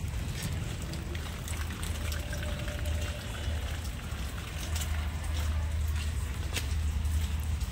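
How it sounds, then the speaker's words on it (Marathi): Heavy rain pours down steadily over a waterlogged grape vineyard, a dense constant hiss with a low rumble, loud and close throughout, with no one talking. "मग पाऊसच एवढं चालू बघा"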